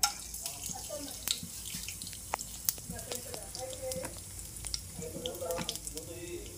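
Cloves, cardamom, cinnamon and shahjeera fry in a small amount of oil, giving off a light, steady sizzle with scattered sharp pops and crackles that stays fairly quiet.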